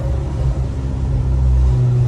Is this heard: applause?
no